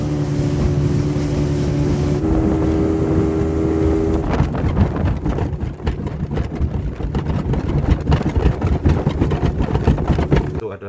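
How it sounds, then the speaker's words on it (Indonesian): A speedboat racing along a river through the Indragiri forest region, its engine droning loud and close with roaring wind buffeting the microphone, then rougher slapping and splashing as the hull pounds the water. "Cuman memang ini untuk orang yang baru seperti saya, orang yang tidak pernah merasakan naik speedboat."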